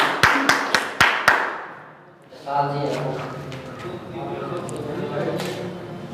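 At a school result celebration, about five sharp, evenly spaced hand claps ring out up close, followed by a pause and then a murmur of voices and room noise.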